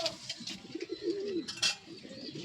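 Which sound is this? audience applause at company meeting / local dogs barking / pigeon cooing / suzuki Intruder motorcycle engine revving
pigeon cooing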